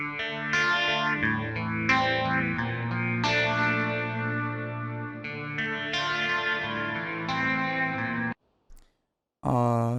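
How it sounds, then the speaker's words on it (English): Music run through a FabFilter Pro-R reverb plugin with the mix turned down, a dense harmonic passage with a modest tail that stops suddenly near the end, then a brief restart. "So if we bring the mix down a bit, we get less reverb, obviously."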